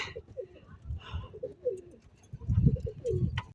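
Several pigeons coo in soft, throaty bursts among trees, the low rolling calls repeating at close range, with a faint rustle in the background.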